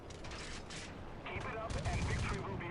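Dense short bursts of rapid 20mm cannon fire from a biplane in the War Thunder video game, a loud continuous rattling clatter with mechanical clanks layered over the top.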